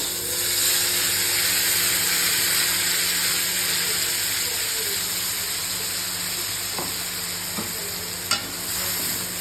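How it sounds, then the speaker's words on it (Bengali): Onion paste frying in hot oil during a Bengali bhetki fish recipe, a steady broad sizzle and hiss that holds evenly throughout, with a few faint clinks of stirring near the end. "এবার আমি তেলের মধ্যে দিয়ে দেবো পেঁয়াজ বাটা।"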